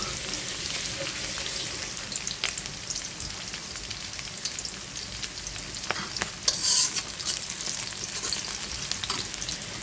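Onion and chili fry in a pan for a Bengali water-lily dish, a soft continuous sizzle broken by occasional spatula scrapes and clinks, no talk.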